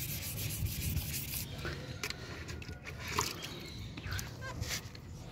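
A wheel rim is hand-sanded with 240-grit sandpaper, giving a quiet, continuous scratchy rubbing close by, with short gaps between strokes.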